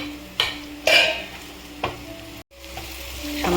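Mustard seeds, green chili and onion fry in hot oil with a steady sizzle, broken by a few sharp scrapes and clinks of a spoon stirring in the pan.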